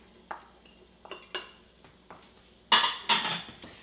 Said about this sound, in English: So we're going to add our celery.